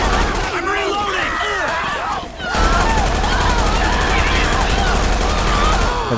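Rapid gunfire in GTA 5 during a violent protest, dense bursts of shots crackling under loud crowd noise and talk, with a brief lull before the firing resumes steadily.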